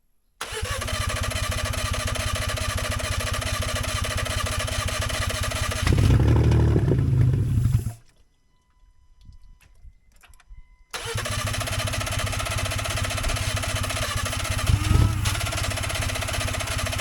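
A 2014 Honda Pilot engine fires up after an engine swap and runs loudly. It cuts out into near silence for a few seconds, then restarts and settles into a steady running rumble.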